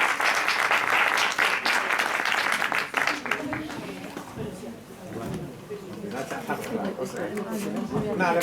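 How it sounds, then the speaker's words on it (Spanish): A crowd claps loudly at a talk in Spain, the dense applause strongest at first and then thinning as chatter and voices rise beneath it, with people talking over the fading claps. "Gracias a Adriana, un aplauso para ella."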